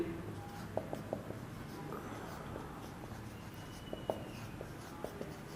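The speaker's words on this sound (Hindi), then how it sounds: "यहां पर लिखते हैं जी" Marker or chalk writing on a board during a classroom lecture, a run of small scratchy taps and strokes at close range under a quiet room tone.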